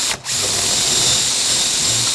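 Mortising machine cleaning out a mortise in a Greene & Greene style table leg: a loud, steady motor whine after a brief dip at the start, running on without speech.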